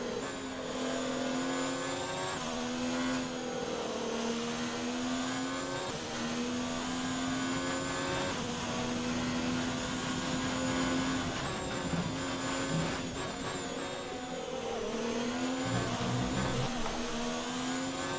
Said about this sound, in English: I'm gonna have to be pretty rude to this engine this race. Lots of revs, lots of aggressive gear changes